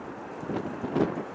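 Gusty wind at Chicago O'Hare airport, gusting up to 40 knots, buffets the microphone in a continuous rough roar that swells and eases over a short stretch.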